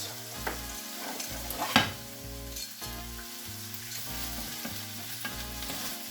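Onions and garlic frying in a hot pan for spaghetti Bolognese, a steady close sizzle broken by the scrape and clatter of stirring, with one sharp knock partway through.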